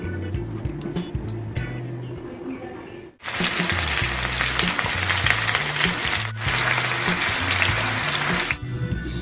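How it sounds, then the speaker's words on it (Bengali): Chitol fish belly pieces, rubbed with salt and turmeric, frying in hot oil with a loud, dense sizzle that drops out briefly and surges back, with low background hum underneath. "মাছটাকে খুব ভালোভাবে ভেজে রেখেছি"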